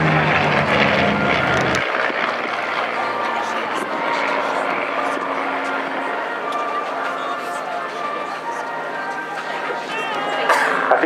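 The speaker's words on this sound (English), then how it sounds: "this aircraft was at the forefront of Britain's defence in 1940" Supermarine Spitfire fighter aircraft flying at the Bournemouth Air Festival, a steady loud engine drone sustained throughout with crowd and ambient noise mixed in.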